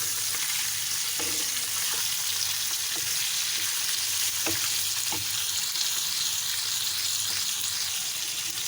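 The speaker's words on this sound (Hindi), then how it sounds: "हीउ पचंदो रहंदो ऐं हिनखे जल्दी जल्दी उथलाईंदा रहंदासीं" Liver curry with tomatoes sizzles and fries steadily in a pan, with occasional soft scraping knocks as it is stirred, close and continuous with no talking.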